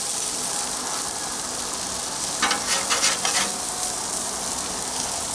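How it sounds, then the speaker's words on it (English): Onions sizzle loudly on a hot griddle for Oklahoma onion smash burgers. The steady hiss runs throughout, with a short burst of metal scraping across the surface in the middle. "We got to get some more of those onions. Yeah, scrape those extra onions"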